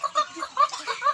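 An Indio Giganti heritage chicken gives a short run of soft, rhythmic clucks, close and fairly loud, with no voice.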